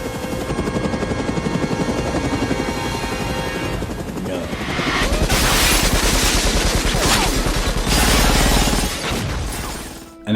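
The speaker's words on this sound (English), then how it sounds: "this is the scene where Neo uses the minigun to rescue Morpheus" Loud, dense rapid minigun fire in the Matrix scene where Neo rescues Morpheus, a continuous roaring burst with shattering debris and mechanical whine throughout.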